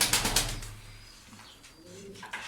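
Tumbler pigeons flap their wings in a few quick bursts at the start, then give soft, low coos that are faint and close by, with no talk.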